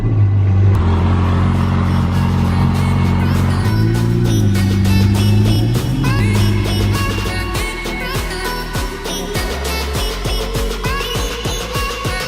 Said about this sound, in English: The exhaust really wakes this car up.